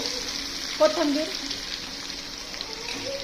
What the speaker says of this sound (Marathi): आपलं तेल तापलेलं आहे, त्यात टाकूया